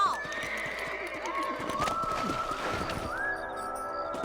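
Horses in the video game Red Dead Redemption whinnying repeatedly over a steady background, with hoof clip-clops and scuffling, the neighs rising and falling in long drawn calls.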